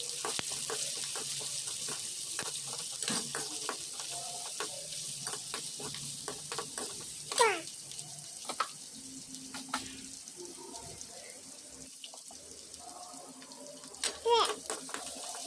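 Chopped onion frying in a pan for ladyfinger (okra) poriyal, a steady soft sizzle with occasional clinks and scrapes of stirring, moderately close with no one talking.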